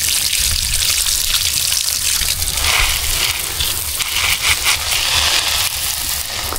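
Continuous rushing water pouring and splashing close by while watering jackfruit trees on a farm, a steady dense hiss that holds for several seconds without talk.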